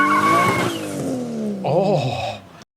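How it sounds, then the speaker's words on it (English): A Nissan RB25 engine fitted with long tube headers revs hard, its tone climbing then falling, followed by a second sharp blip of the throttle before cutting off abruptly, loud and close. "RB25s tend to have a nice character of sound."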